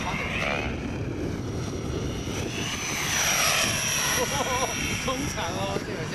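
Outdoors, a TBS mini sound module plays an Airwolf helicopter sound effect: a steady, moderately loud engine and rotor whine that swells midway. People talk over it.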